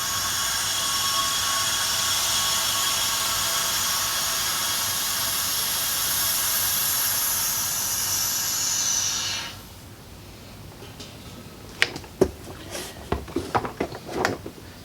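A degasser pulls vacuum on heated soft plastic for fishing baits, giving a loud steady hiss that cuts off abruptly, followed by scattered clicks and handling knocks.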